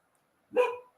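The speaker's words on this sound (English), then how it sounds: "And that is my dog, by the way." A single dog bark, brief and fairly close, rings out alone against a silent indoor background.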